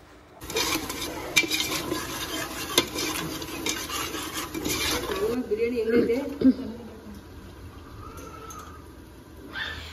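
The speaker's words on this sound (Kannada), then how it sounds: "ಸೊ ಈ ಒಂದು ಪೇಸ್ಟ್ನ ಹಾಕಿ ಸ್ವಲ್ಪ ಚೆನ್ನಾಗಿ ಫ್ರೈ ಮಾಡ್ಕೋಬೇಕು" A paste of ginger, garlic, mint, coriander and chilli frying in a pan, with stirring scrapes and clinks of utensils against cookware, steady sizzle under someone talking throughout.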